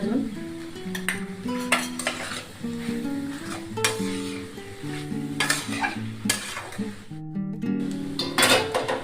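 Cauliflower and potato vegetable with coarse peanut powder stirred in a pan: a continuous close sizzle with frequent spoon scrapes and light metallic clinks against the pan, heard alone without speech.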